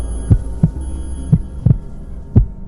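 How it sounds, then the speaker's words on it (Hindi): A heartbeat sound effect pounds hard and steady, about six deep thumps in close, regular pairs over a low hum, loud and alone with no voices. "दिल अचानक जोर से धड़कने लगा"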